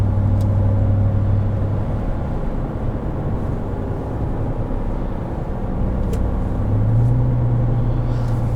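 A 2022 Ram 1500 TRX pickup fitted with pulleys and a resonator delete cruises along, its engine giving a steady, deep low rumble from inside the cabin with no talking.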